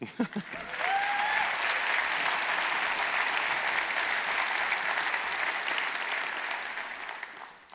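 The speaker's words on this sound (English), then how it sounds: "let's have a round of applause to all our partners" An audience at the EVE Fanfest 2025 keynote breaks into sustained, even applause that fills the space for several seconds before gradually tapering off.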